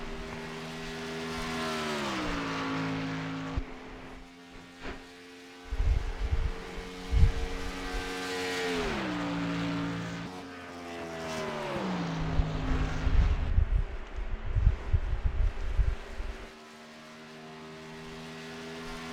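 A race car lapping Indianapolis in a Northwest Xfinity Series session, engine note climbing and dropping through repeated gear changes, loud and close, with rumbling passes and no voices.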